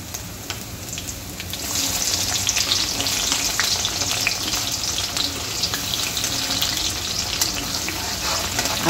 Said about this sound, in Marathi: आता आपण कांदा छान सोनेरी होतपर्यंत छान परतून घ्यायचा आहे.